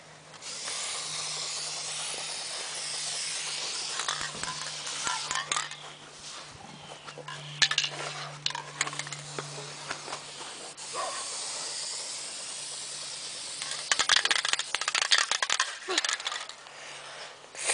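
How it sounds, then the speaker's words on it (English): Long continuous hissing spray from an aerosol can, broken by short pauses and faint clicks, close and fairly loud. "Okay, now I'm going to spray."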